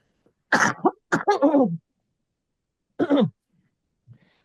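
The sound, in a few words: cough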